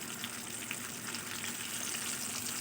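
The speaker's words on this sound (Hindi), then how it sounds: "ऐसे इनको ऊपर से प्रेस करते हुए फ्राई करेंगे ताकि ये अंदर से अच्छी तरह पक जाए" Fish fry in hot oil in a pan while being pressed down, giving a dense, continuous crackling sizzle at close range with no voices.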